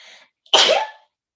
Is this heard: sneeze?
yes